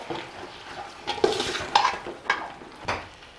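Vegetables being stirred with curd in a pot for vegetable biryani, several distinct scraping clinks of a spoon against metal over a soft background sizzle, no one talking.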